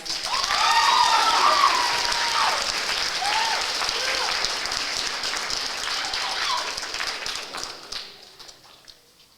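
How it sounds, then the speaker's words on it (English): A banquet crowd at a speech and debate showcase applauds four students, a sustained roar of many clapping hands with some cheering voices near the start, slowly thinning out before fading at the end. "if you would please give Joey, Maddie, Morgan, and Elena a round of applause"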